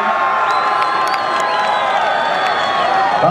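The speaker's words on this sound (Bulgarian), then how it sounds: "Аплодисменти! Аплодисменти!" A crowd at a horse race in Harmanli cheers, whoops and claps loudly and continuously, with shouting voices mixed into the dense roar.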